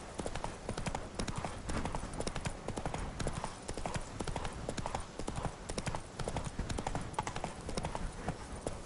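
Hooves of Roach, Geralt's horse in The Witcher, clip-clop in a quick steady rhythm, close and clear, with soft game ambience underneath.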